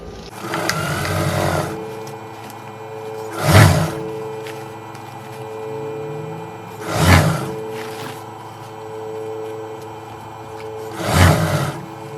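Sewing machine stitching an elastic waistband with rope inside, heard as a droning whir with a steady hum, swelling in three short loud bursts spaced a few seconds apart.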